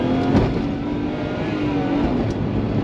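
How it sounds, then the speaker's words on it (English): A Daihatsu Move kei car accelerates hard, its small engine droning steadily and close, with a brief puff of release near the start; the blow valve itself is barely distinguishable. "You can kind of hear the blow valve a little bit."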